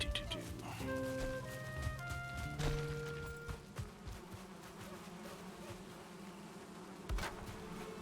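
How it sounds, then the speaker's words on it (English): Bees from the survival game Valheim, a soft continuous buzzing drone beneath scattered game sounds and tones, fairly faint throughout. "We have the happiest little bees."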